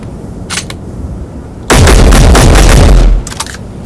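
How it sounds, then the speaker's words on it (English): A basic rifle fires in the video game Space Engineers, with a rapid, loud burst of shots lasting about a second and a half, preceded and followed by a few faint clicks and handling sounds. "I'm holding down the button. Oh, it sounds like an actual rifle."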